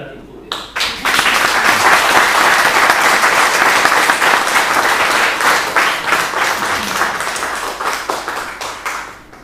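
Audience applause at the presentation of a civic centre honouring dedicated people, starting with a few claps and swelling into loud, dense clapping that slowly thins toward the end.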